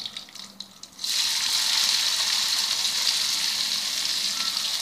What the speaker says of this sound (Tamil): இந்த ஆயிலே நம்ம வெங்காயத்தை போட்டுடலாம்.